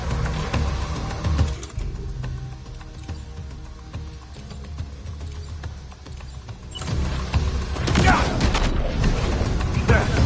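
Gunfire in the Death Stranding 2 video game, heavy bursts of shots and impacts that swell loudly in the second half under game sound and brief voices.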